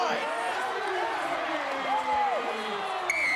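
Rugby stadium crowd erupting in celebration after a Super Rugby try, Highlanders versus Moana Pasifika, a sustained roar of cheering filling the whole clip with a voice talking over it.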